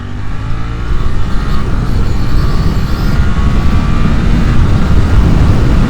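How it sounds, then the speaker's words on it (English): A Suzuki GSX-8R parallel-twin motorcycle accelerates hard at speed, its engine note rising steadily under heavy wind rush, loud and close, with no talk. "This twin engine is really sweet."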